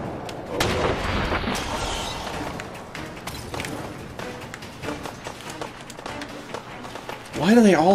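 Missile launcher explosions in the Fallout 4 video game rumble and boom in rolling bursts amid chaotic combat noise, with a voice talking over the blasts throughout.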